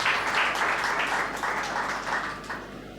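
A church congregation at an anniversary festival claps together, a dense rippling wash of applause in pulsing waves that carries on throughout and eases slightly near the end.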